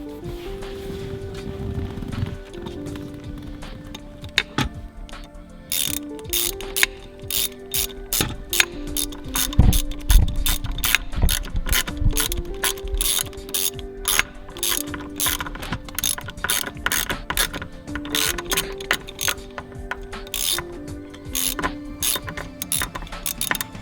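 Ratchet tightening a bolt during a Corvette C6 MGW short throw shifter install, long runs of rapid close clicking strokes, steady and loud, with no talk.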